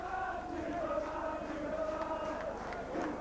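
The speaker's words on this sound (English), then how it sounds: "the popular side crowd here as they chant his name" A rugby league crowd at St Helens versus Castleford chants a player's name from the popular side terraces, a broad rhythmic roar heard at a distance with a commentator talking over it.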